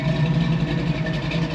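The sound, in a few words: hot rod car engine exhaust running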